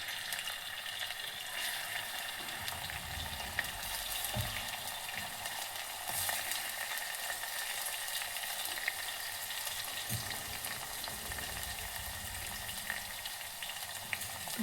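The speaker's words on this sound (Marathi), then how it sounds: "जिरा झाल्यानंतर लसण आणि मिरची आपण ठेचलेली होती ती लसण आणि मिरची टाकायची." Crushed garlic and green chili frying in a cumin tempering for a tomato chutney, giving a steady, close crackling sizzle throughout with small pops and occasional stirring.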